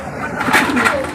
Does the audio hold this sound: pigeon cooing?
yes